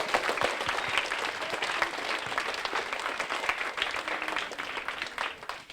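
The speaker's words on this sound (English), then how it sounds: "Let's give her another big round of Northport applause." A school audience at a Northport assembly gives a school representative a sustained round of applause, a dense, even wash of many hands clapping that holds steady for several seconds.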